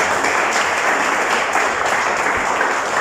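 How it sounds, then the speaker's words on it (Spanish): A church congregation gives warm applause to welcome a special guest, dense steady clapping filling the full three seconds at close, loud level with no talk over it. "los amigos lo conocemos como el Geras, y lo recibimos con un fuerte aplauso."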